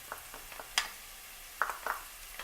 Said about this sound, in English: So now I'm going to put the other stuff in.